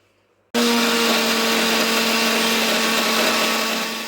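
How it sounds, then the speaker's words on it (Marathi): After a brief quiet moment, a mixer grinder grinds garlic, coriander and cumin, whirring loudly and continuously at high speed, its motor droning steadily before easing slightly at the end. "लसूण आणि कोथिंबीर आणि जिरे मिक्सरमधून वाटून घ्यायचे"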